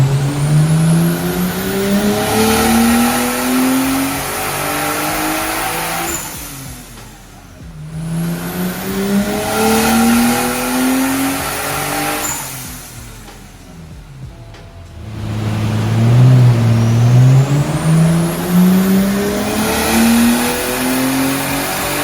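A Nissan Skyline R33 with a Hypergear ATR43SS turbo runs hard on a dyno, its engine revving loudly through three long sweeping pulls with rising pitch, each dropping off before the next, close and continuous with no talking.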